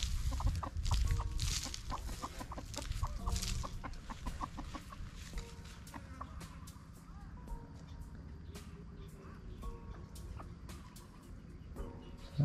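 Farm chickens cluck while feeding on food and water, with close, busy, repeated clucks and pecking sounds that thin out over time, and a person speaks faintly in the background.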